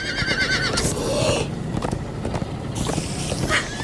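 Horses in the video game Minecraft Story Mode whinny loudly while hooves clop at a gallop, with layered game sounds and the neighs recurring near the start and end.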